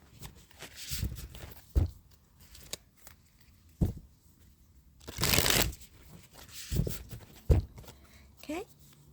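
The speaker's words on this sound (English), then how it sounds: "Okay, I have had a little shuffle already." A deck of Cosmic Dancer tarot cards is shuffled by hand in short, crisp riffling bursts with pauses between them, close to the mic, alongside a speaking voice.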